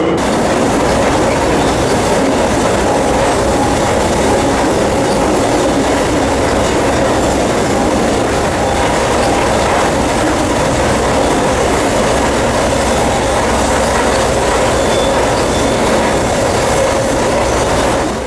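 A freight train rumbles steadily along the rails, heard loud and close from aboard the train, with continuous clattering and faint metallic squeals throughout.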